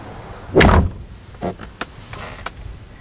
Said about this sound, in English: Sounds amazing when you shut the door.